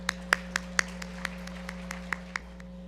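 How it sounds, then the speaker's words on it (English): A small audience at a Chefs for Habitat event gives sparse, scattered clapping, a dozen or so distinct claps over a low steady hum, fading toward the end. "Another round of applause for our celebrities."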